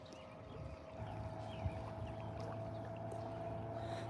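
A small fishing boat's motor revving on a lake: a low, steady drone with a faint rising hum, heard from a distance over lapping water, no voices.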